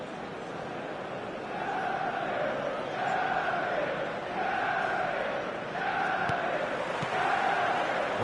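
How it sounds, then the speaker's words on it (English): A full stadium crowd in the eFootball video game roars steadily, with rising and falling chant-like swells layered over a constant wash of noise, heard alone and at moderate volume. "The stadium is full of noise and energy."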